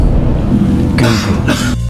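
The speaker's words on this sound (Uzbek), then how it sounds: "Parij varianti aytilganida yo'tal eshitildi" A few harsh coughs burst out over a steady low background hum, close and fairly loud, the last ending abruptly.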